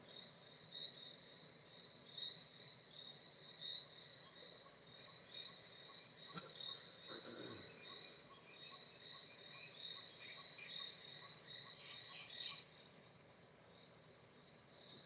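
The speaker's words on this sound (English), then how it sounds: "Here's some crickets there." Crickets chirp steadily in a high, continuous trill, soft and somewhat distant, over a quiet outdoor background.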